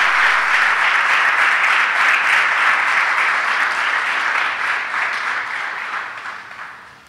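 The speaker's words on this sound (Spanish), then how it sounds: "Dale ese aplauso al Señor." A church congregation breaks into loud, dense applause that holds steady, then gradually fades toward the end.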